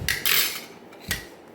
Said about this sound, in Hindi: तो मैं इधर बर्तन चम्मच निकाल लूँ